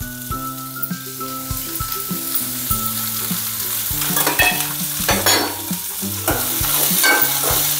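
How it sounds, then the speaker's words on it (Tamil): Onions and curry leaves sautéed in a kadai for a fish curry base, a continuous sizzle broken by repeated rhythmic scraping stirs against the metal pan, close and fairly loud. "இதை நல்லா வதக்கி விட்டுக்கலாங்க."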